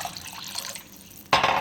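A cup of water splashes into raw chicken in a dish, a sudden close gush after a quiet lead-in of small drips.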